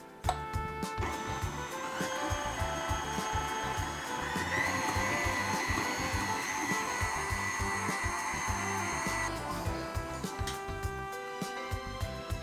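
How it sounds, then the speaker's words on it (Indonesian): A stand mixer with a paddle attachment beats butter with caster and brown sugar, running as a steady whirring drone with a rhythmic knocking churn throughout and no talk. "ini akan kita kocok dengan paddle attachment sampai gulanya larut aja"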